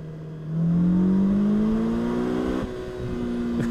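A 2021 Polaris Slingshot R engine accelerates hard, its loud, close drone climbing steadily in pitch before a brief dip near the end and a renewed steady pull.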